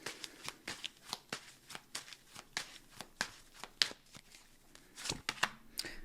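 A deck of tarot cards is shuffled hard and repeatedly, a steady run of close, crisp riffling bursts roughly every half second.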